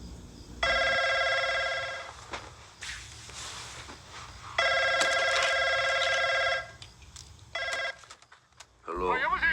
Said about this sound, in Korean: 불길하게 울리는 전화벨.